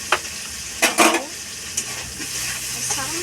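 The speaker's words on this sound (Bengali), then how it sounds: "হালকা করে একটু ভেজে নিলাম।" Paneer fries lightly in oil with salt, chili powder and garam masala, giving a steady soft sizzle broken by several sharp clattering stirs of a utensil in the pan.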